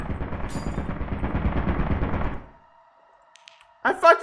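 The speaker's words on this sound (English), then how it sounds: "Oh, there's a turret in here!" Rapid turret fire in Lethal Company rattles loudly as a dense burst for about two and a half seconds, then cuts to near silence before a short, sharp clatter and a brief tonal sound close the moment.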